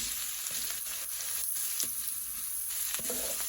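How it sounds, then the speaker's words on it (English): Onions sizzle steadily in the sauté setting of an Instant Pot, a continuous moderate hiss and crackle with no voices. "I'm just letting these onions cook down a little bit"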